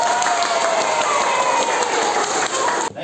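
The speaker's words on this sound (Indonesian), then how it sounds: "Tepuk tangan." Classroom applause at the close of an Islamic religious education (PAI) lesson, a dense, steady patter of many hands clapping for about three seconds before stopping abruptly.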